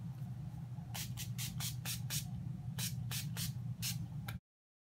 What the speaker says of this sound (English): spray my face with the NYX Dewy Finish Setting Spray